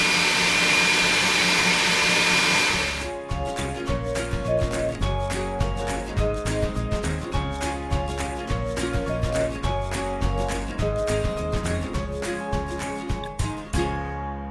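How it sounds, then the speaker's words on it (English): Stand mixer beating egg whites while sugar is slowly added, a loud steady motor whir that shifts after a few seconds into a rhythmic whipping churn, close up with no talking. "we're going to turn on our mix master to slow and slowly add our sugar in"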